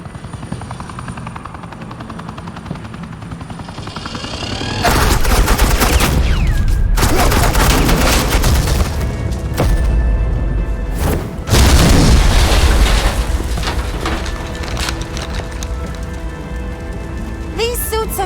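Gunfire and explosions in a Telltale Batman video game, with loud booming blasts and crackling bursts over a constant helicopter-like roar, broken by short quieter gaps.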